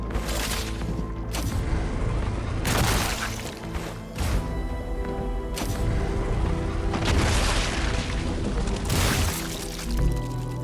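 Gunfire in the video game StarRupture, with repeated heavy booming bursts spaced a few seconds apart over a dense, loud rumbling game soundscape.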